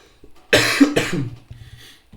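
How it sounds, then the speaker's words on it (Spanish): A lecturer's cough, a couple of harsh bursts close to the microphone in a quiet lecture room, followed by softer throat noises. "Y sobre todo que tenga mucha benevolencia con mi tos"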